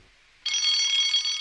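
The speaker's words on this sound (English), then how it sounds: "Soon came the alarm." An alarm bell starts abruptly after a short quiet moment and rings steadily, loud and bright, as a continuous metallic trill for about a second in an animated train story.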